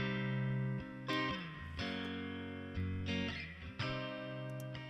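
Electric guitar through an amp simulator with a condenser microphone, distorted sustained chords struck about five times in a slow rhythm, each ringing out, fairly quiet overall.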